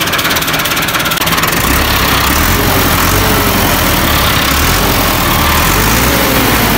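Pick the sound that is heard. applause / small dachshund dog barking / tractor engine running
tractor engine running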